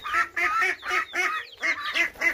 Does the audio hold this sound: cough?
no